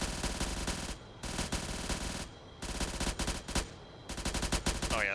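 Aircraft cannon fire in the ArmA 3 video game, heard as loud sustained bursts of rapid automatic shots, roughly four long bursts separated by short gaps.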